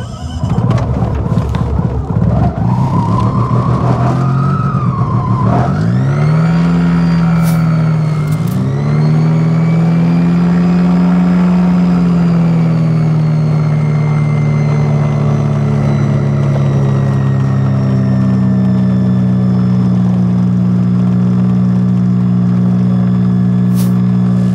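A light aircraft's propeller engine starts at a mountain airfield at Courchevel, cranking and catching with a rising whine, then settling into a loud, steady droning idle close by with a few sharp clicks.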